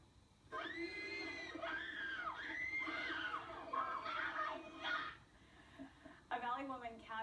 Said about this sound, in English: The Beatles arrived in New York to a legion of screaming fans, most of them girls